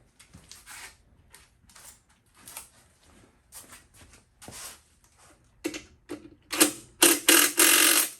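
A socket wrench ratcheting a nut on a bicycle being assembled from spare parts, with short bursts of rapid clicking that grow louder and denser toward the end, close up.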